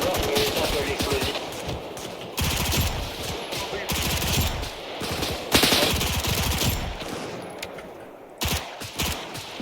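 Rapid machine-gun bursts and single gunshots in a military video game firefight, loud and near, with intermittent voices over the shooting.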